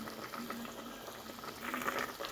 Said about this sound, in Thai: เดือดแล้วนะครับเดี๋ยวเราก็ปิดฝ้านะครับ